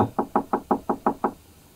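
A rapid series of seven firm knocks on a wooden hotel room door, close by and evenly paced, fading into a quiet room.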